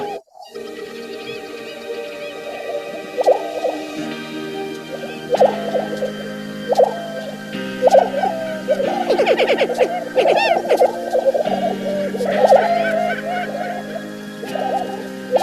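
Lesser prairie-chickens calling at a grouse camp in the Kansas grasslands, a chorus of repeated bubbling, gobbling hoots and higher yelps overlapping steadily, fairly close and continuous without talking.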